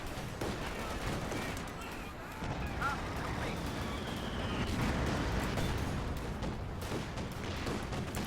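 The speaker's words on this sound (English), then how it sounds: "Frag grenade goes off." Battle noise from Company of Heroes 2 with grenades going off amid gunfire, a dense continuous wash of distant blasts and shots with a commentator talking over it.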